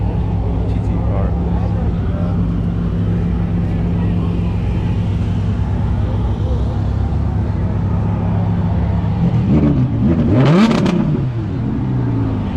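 A GT sports car's steady engine drone runs throughout, then rises into a brief rev near the end, loud and close, at a car meet.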